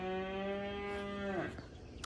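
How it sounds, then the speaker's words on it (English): A cow gives one long, loud, close moo lasting over a second, steady at first and then sliding down and breaking off, followed by quieter farmyard background. "these cows, just rude"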